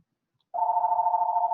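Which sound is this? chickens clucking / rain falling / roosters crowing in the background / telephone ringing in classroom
telephone ringing in classroom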